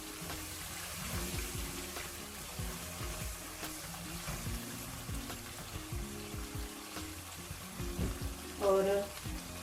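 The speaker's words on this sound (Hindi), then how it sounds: "तो चलिए इसका पानी खुश्क होने तक इसे हम भून लेंगे" Prawns fry in a pan with yogurt over a gas flame set to medium-high, giving a steady, soft sizzle throughout, with a brief louder clatter near the end.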